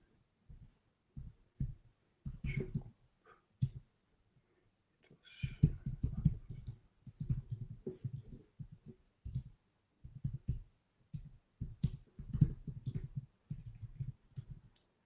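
Computer keyboard typing in bursts, soft muffled clicks coming in uneven clusters with short pauses between, fairly close and alone without talk.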